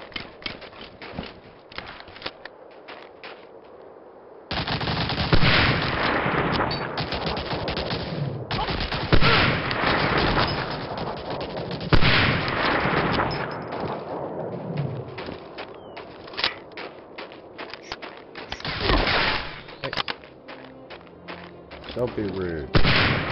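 Rapid bursts of gunfire crackle almost nonstop in the World War II shooter Medal of Honor Allied Assault, with heavy machine-gun volleys and single shots layered loud and close over a battle din.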